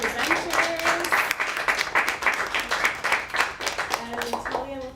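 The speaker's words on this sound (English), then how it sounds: "So maybe if we get a big round of applause for the presenters." Applause for presenters at a youth activism session on sexual and reproductive health in Moncton, steady clapping from a modest audience with some voices mixed in toward the end.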